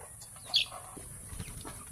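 A single short cluck from a chicken pecking at mango pops out once over a quiet outdoor background, then the scene stays calm.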